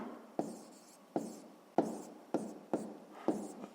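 Pen writing by hand on paper during a sixth-grade maths exercise, six short scratchy strokes, each starting with a sharp tap and then fading, evenly spaced and close, with no voices.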